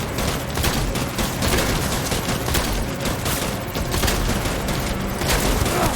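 Death Stranding video game gunfire during the fight against Mads: dense, loud, rapid shots blur into a continuous barrage for the whole stretch.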